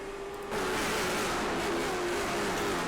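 Late model stock cars race at Hickory, with loud engines roaring and revving continuously. The sound swells sharply as the cars close in and stays dense and sustained throughout.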